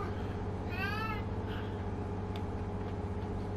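A cat meows once inside Bus Simulator 21 while a bus drives, a short rising-and-falling mew heard over the steady engine hum and road rumble of the moving vehicle.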